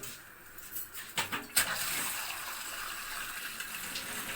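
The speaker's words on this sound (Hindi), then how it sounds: "2 किलो पानी मैंने डाल दिया इसमें" Water is poured from a half-kilo mug into a pot of nihari cooking with meat, giving a soft, close gush with a few splashing bursts early on, then a steady, quiet flowing hiss.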